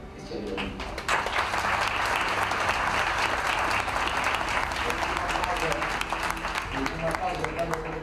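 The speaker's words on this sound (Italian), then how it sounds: "faccio un applauso a voi, che siete venuti" Audience applause at a conference and open day for the Roma Bike Park, a dense, steady clapping that swells after the first second and holds loud and continuous, with faint voices and some tonal sound underneath.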